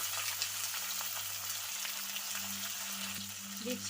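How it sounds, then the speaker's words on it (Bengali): Sajna drumsticks fry lightly in a pan with a soft, continuous sizzle and occasional small pops under a low electrical hum, with no voices. "তো সাজনাগুলো ভেজে তুলে নেব, হালকাই ভাজবো, বেশি ভাজবো না।"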